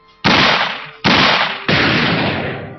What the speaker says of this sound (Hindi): बाकी गार्ड्स ने उन पर गोलियां चला दी।